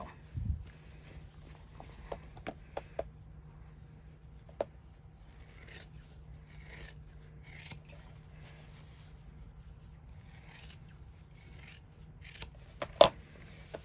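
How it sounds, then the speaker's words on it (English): Large fabric shears cutting through the seam of a cushion cover, quiet intermittent snips and rasping fabric sounds spread across a hushed room, with an occasional louder clack. "You can use your big shears and just cut your seam in half."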